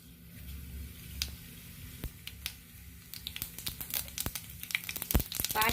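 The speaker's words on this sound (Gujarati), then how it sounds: "તેલ ગરમ થઈ ગયું છે, તેમાં રાઈ જીરું ઉમેરીશું." Mustard seeds and cumin crackle in hot oil in a pan for sev tamatar sabzi: faint, sparse pops at first, growing into quicker, louder sputtering crackles toward the end, with no talk.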